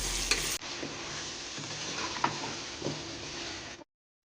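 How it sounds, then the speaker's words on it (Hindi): Keema, potatoes, tomatoes and green chillies sauté in a pan with a steady broadband sizzle and scraping stir strokes, close and continuous for about four seconds before cutting off. "इन सबको भून लेंगे।"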